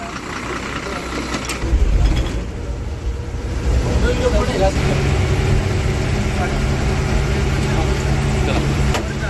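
A luxury travel bus rolls along with a steady mid-pitched engine drone and road rumble that swells after a brief thump, while voices talk over it.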